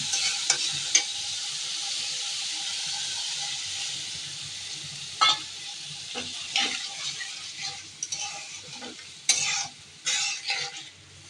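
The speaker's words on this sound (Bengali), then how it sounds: "এদিকে কুমড়ার জন্য মশলাগুলো কষাচ্ছি।" Spice paste for a pumpkin and prawn dish sautéing in a pan: a steady, close sizzle with repeated spatula stirring scrapes and a few sharp clinks, no one talking.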